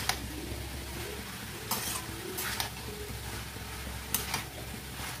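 Boiled noodles and vegetables sizzle together in a hot pan for home-style Bengali chicken Hakka noodles, a steady frying hiss broken by several bursts of scraping and tossing as a spatula stirs the mix.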